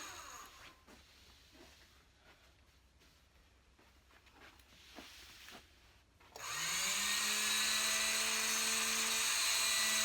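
A long-arm quilting machine running on a quilt: after six seconds of soft rustling and handling noises, a steady high motor whine and hum starts abruptly and holds loud and even to the end.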